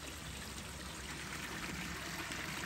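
Clear creek water flows close by on the Appalachian Trail, a steady, dense rushing and trickling that fills the whole moment without pause or voices.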